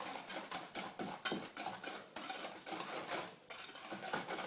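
A metal whisk beats sugar into a chocolate cake batter in a bowl, making quick rapid clinking taps in a steady fast rhythm with short pauses, close and clear.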